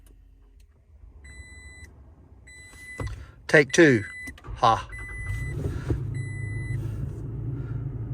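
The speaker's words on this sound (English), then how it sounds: "Let me start the truck back up." A 2022 Toyota Tacoma pickup's engine cranks and catches in a short burst, then settles into a steady low idle rumble, with chimes and a person speaking briefly inside the cab.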